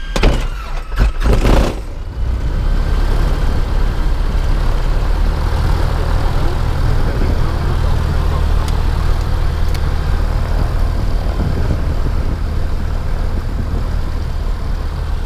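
A light aircraft's piston engine fires in a ragged burst of coughs, then settles into a loud, steady, rumbling idle that runs on unbroken.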